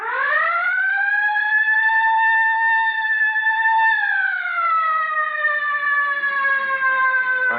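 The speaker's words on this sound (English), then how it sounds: "All right, hit the siren." A loud, close police car siren wails alone in a sustained rising then slowly falling tone, holding steady for several seconds before dropping away at the end.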